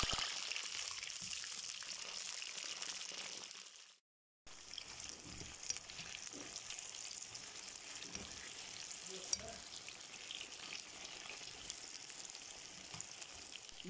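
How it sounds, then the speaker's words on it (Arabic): Eggplant frying in hot oil, a steady loud sizzle that drops out briefly, then resumes with occasional clinks and stirring underneath. "بعد كده ايه هبتدي اقلي الباذنجان"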